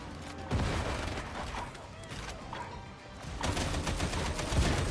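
Gunfire from Warhammer 40K: Darktide sounds as bursts of rapid shots and impacts, mixed with chaotic combat noise at moderate loudness. Intensity rises and falls over several seconds.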